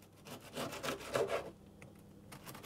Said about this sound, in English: I've started to slice them